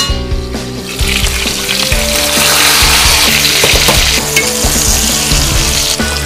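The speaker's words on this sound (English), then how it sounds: "now my onions are perfectly ready to be added to the potatoes" Onions and potatoes fry loudly together in a pan as a continuous close sizzle with occasional stirring knocks, and a faint tonal hum sits underneath.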